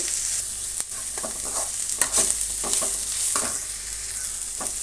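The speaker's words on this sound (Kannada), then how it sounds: "ಈಗ ಇದು ಒಂದು ಎರಡು ನಿಮಿಷ ಫ್ರೈ ಆಗಲಿ" Carrot and tomato frying in a pan for carrot uppittu, a continuous bright sizzle broken by short spatula stirs and scrapes, close and steady throughout.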